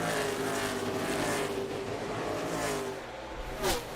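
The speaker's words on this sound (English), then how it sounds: "as you watch that car go around the racetrack" NASCAR stock car lapping Richmond Raceway, its engine a loud, sustained roar with shifting pitch as it runs around the track, fading slightly before a brief surge near the end.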